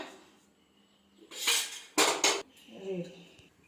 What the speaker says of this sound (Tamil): வானல் அடுப்பில் வச்சுருக்கேன்